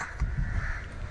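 A crow caws from a tree, a single harsh call lasting about a second, fairly close and clear over faint background noise.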